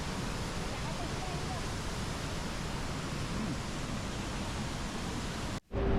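A dense, constant roar of rushing water from Iguazu Falls fills the whole clip, broad and hissing, cutting out abruptly just before the end.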